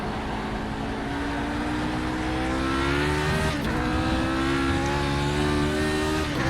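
A Lotus 49 race car in a racing video game spins its rear wheels, its engine screaming in a loud, continuous whine that climbs in pitch as the revs rise.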